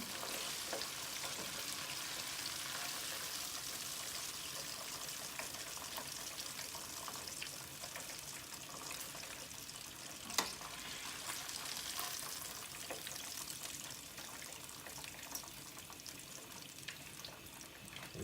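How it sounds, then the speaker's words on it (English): Catfish nuggets fry in hot oil with a steady, fairly quiet sizzle and bubbling, joined by occasional small clinks and stirring sounds. "We're going to continue to cook our catfish nuggets"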